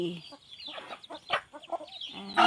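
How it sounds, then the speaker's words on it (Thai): Young game fowl chicks clucking and peeping in a series of short, uneven calls, fairly close, with a louder burst near the end. "ลูกไก่แจ่ลูกไก่แจ่ตัวนี้เป็นไก่ตี"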